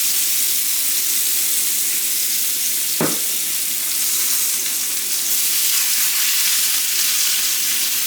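Loud, steady sizzling and crackling of diced onion frying in a hot pan, with a brief swish of stirring partway through.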